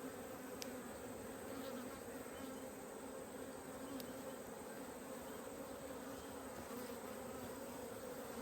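Honeybees humming around an open hive nucleus, a steady, faint, continuous drone with occasional louder passes of individual bees close by.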